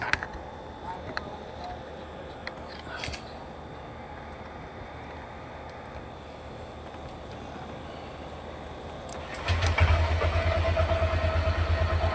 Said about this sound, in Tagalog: Start ng ating motor.